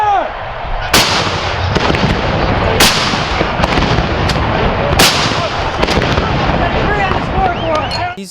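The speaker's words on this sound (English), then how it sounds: "These guns are called 75mm pack howitzers." Four loud 75mm pack howitzer shots ring out one after another at roughly two-second intervals, each a sharp blast with a long rolling echo, over steady outdoor rumble and faint voices.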